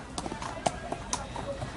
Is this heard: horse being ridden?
yes